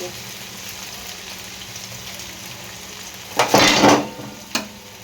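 Garam masala fries in oil with a low, steady sizzle, then louder scraping stirs and a clink of a utensil against the pan near the end.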